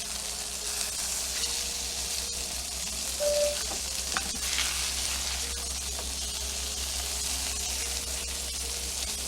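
Loco moco patties frying in a pan with a loud, continuous sizzle and spatter that runs steadily throughout.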